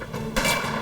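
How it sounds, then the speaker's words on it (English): A single sharp, loud gunshot bursts out, followed by a brief fading echo. "There was an exchange of gunfire."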